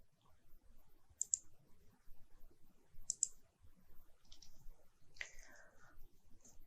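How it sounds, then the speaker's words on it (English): Two sharp computer mouse clicks land about two seconds apart, quiet and close, while confirming a dialog in structural design software; a couple of softer clicks and a faint rustle follow over a low background hiss. "Then I click here on OK."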